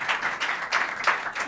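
A short burst of applause for a departing pair, a handful of hands clapping in a loose, uneven rhythm, fairly close and moderately loud for just over a second.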